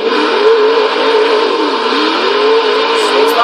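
1992 Hoonigan Mazda RX-7 "Twerkstallion" engine in Forza Horizon 3, a loud sustained rotary drone that revs up and down through the clip, up close with no voices.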